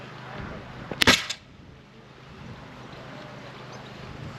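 An Enfield percussion rifle musket fires one loud, sharp close-range shot with a short tail, followed by quiet outdoor wind noise.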